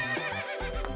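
A horse named Maximus resting in a meadow gives a short, loud whinny close by, the call wavering in pitch for about a second before breaking off, with no one speaking over it.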